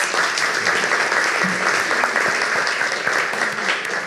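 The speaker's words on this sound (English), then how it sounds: "So if we could please give them another round of applause." Sustained, dense audience applause for Native Nations of Long Island panelists at a Hofstra University event, steady and full throughout with no pauses.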